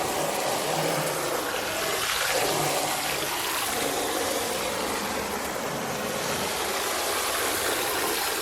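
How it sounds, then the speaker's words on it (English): Continuous loud rush of water spraying and pouring into a filled tub, steady and broadband with slight shifts as the stream moves. "if you add the stream, the shower portion, and move it around"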